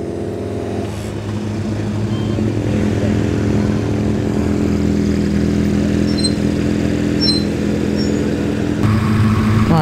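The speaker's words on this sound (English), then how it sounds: "All the cars have to be sound tested before going out on their runs." A vintage racing car engine runs steadily during a pre-run sound test in the paddock at the Loton Park hillclimb, a loud, close, sustained droning idle with a slight rise in pitch near the end and no talking.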